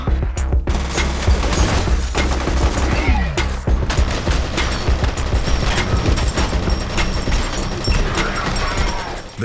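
Gunfire in the first-person shooter F.E.A.R.: loud, close bursts of rapid automatic shots and single cracks, with clanking weapon mechanics between volleys.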